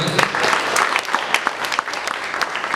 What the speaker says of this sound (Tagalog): Sige po, tuloy natin yung palakpak natin